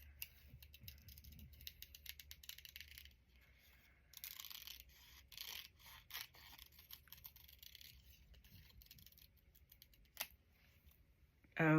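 Scissors fussy cut an image out of a magazine page, producing soft, close, irregular snips and paper crinkling in a quiet setting.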